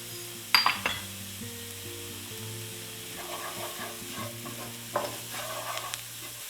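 Mushrooms seasoned with salt and pepper sauté in a pan, with close utensil clinks and scraping stirs over a soft, steady sizzle, while a low musical hum plays underneath.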